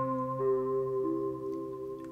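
An Arturia SQ-80 V software synth holds a steady three-note major chord, sustained tones layered together with a slight shift partway through, playing alone without talk.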